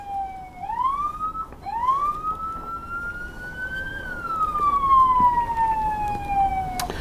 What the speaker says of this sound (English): The officer will continue to follow the vehicle, intermittently turning their siren on,